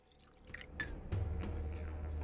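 Water trickles and drips into an empty bottle in the video game Pathologic 2, a soft liquid fill that settles into a steady low gurgle with a faint high ringing tone above it.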